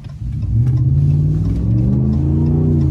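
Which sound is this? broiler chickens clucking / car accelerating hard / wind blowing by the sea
car accelerating hard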